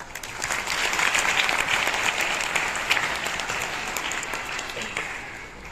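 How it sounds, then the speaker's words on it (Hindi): An audience claps at a school Ambedkar Jayanti event, a dense, steady burst of applause that holds strong for several seconds before tapering slightly, with faint voices mixed underneath. "तालियां बजाकर"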